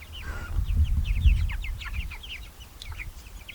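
Chickens on a small homestead cluck and chirp in short, quick bursts that run through the whole stretch, with a low rumble of wind or handling noise underneath, heard fairly close.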